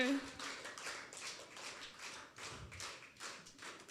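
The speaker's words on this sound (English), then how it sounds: "Let's give him a big clap more." Church congregation clapping during a prize announcement at a Zomi Christian service, a steady patter of many hands under a host's voice urging them on, moderately loud and sustained.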